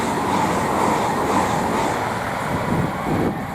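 Class 800 IET unit 800-002 on the Great Western Main Line at Goring & Streatley, passing as a steady, loud broadband rush of wheels and rail noise that holds for several seconds with no talk.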